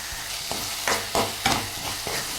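An ingredient fries in a pan over a low gas flame for chicken curry, a steady soft sizzle with a few louder stirring scrapes spaced through it.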